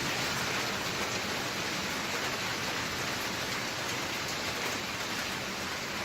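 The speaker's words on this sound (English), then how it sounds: "we're getting in from the rain. Listen to this!" Rain falling outside, a steady dense hiss of drops on surfaces, loud and continuous with no talking over it.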